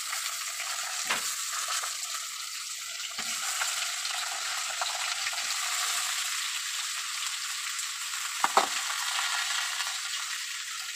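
Potatoes and tender coconut pieces fry in a pan with a steady, dense sizzle throughout, broken by a couple of brief utensil clicks near the start and end.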